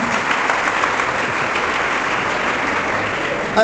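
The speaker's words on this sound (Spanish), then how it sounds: "Aplausos pues para los sacerdotes que también nos acompañan." Audience applause for priests at a live church debate event, a dense, continuous sheet of clapping from a crowd, fairly loud and even throughout with no distinct speech.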